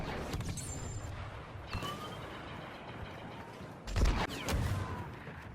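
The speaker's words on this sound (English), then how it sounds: "he's going to reconfigure his gun into an anti-armor grenade launcher, specifically to take out tanks" An anti-armor grenade launcher fires in the Destiny 2 video game, with deep booms and explosive blasts rolling over a dense, noisy battle backdrop, the heaviest impact landing near the end.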